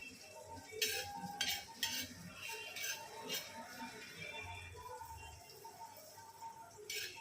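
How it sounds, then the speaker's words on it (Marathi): Sesame seeds dry-roasting in a pan while a spoon stirs and scrapes, giving faint scattered clinks and light scratching strokes over a soft crackle, close and quiet, with no talking. "तिळणीचे असे गरम करायचे, थोडे जास्त काही भाजायचं हे नाही याला।"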